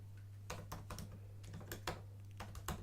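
Quiet, quick keystrokes on a computer keyboard typing a short Unix rm command, a handful of distinct clicks in an uneven rhythm over a steady low hum.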